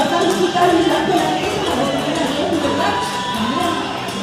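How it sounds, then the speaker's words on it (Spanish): A crowd cheers and applauds journalists from Diario Villa Ángela at a Journalists' Day celebration in Villa Ángela, a loud, sustained roar of voices and clapping with shouts mixed in. "Fuerte los aplausos para ellos."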